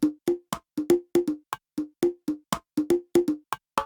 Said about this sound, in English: I'll then overdub some bongos that sound like this.